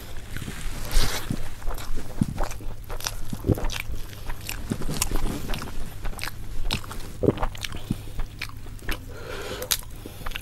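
Crisp, crunchy chewing bites of roasted pork repeat close up against a steady low background hum, with no talking.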